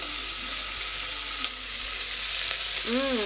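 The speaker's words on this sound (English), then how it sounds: "We just want it to fry first." Goat curry frying in a pan in a home kitchen, a steady close sizzle with a brief stir and a short tonal squeak near the end, with no talking.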